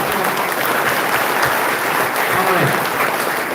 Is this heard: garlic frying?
no